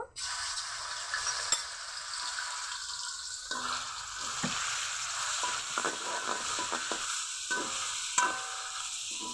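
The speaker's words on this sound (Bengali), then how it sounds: "বন্ধুরা তেল গরম হয়ে গেছে এখন চিকেনগুলো দিয়ে দিব" Chicken pieces fry in hot white oil in a wok for semolina biryani, giving a loud, steady sizzle and crackle with occasional spatters and stirring scrapes, with no talking.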